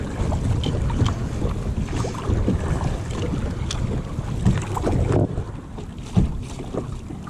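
Steady wind rushes over a kayak on open water at Matlacha, Florida, with a faint lap of small waves and occasional paddle splashes beneath a continuous, loud blustery roar.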